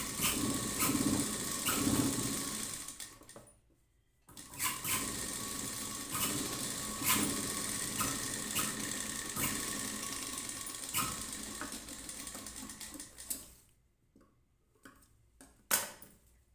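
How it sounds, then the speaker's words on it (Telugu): A sewing machine stitches a blouse seam in steady, close-up bursts of rapid mechanical whirring, with short pauses between runs of stitching. "ఇంకోటి కూడా సేమ్ అలాగే కుట్టుకోవాలి"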